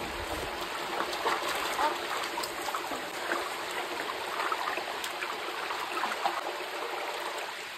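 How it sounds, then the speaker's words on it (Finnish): A small forest waterfall flows steadily, a continuous mid-level rush and splash of water with no voices over it. "Vesiputouskin löytyi. Ei mikään valtava, mutta just riittävä meille."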